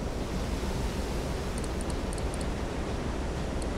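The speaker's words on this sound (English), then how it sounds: "The waves are incredibly annoying." Ocean waves in the Silent Hunter 3 submarine game, a steady loud wash of surf and wind noise rolling continuously with no talk, faint high ticks briefly audible.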